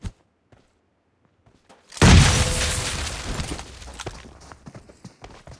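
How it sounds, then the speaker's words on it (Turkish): A grenade detonates in PUBG Mobile: after near silence a sudden loud boom hits, followed by a rumbling, crackling decay that tails off over a few seconds with scattered small thuds. "şu anda şöyle bomba çekeceğim"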